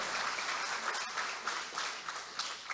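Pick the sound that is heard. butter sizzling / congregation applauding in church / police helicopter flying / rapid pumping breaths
congregation applauding in church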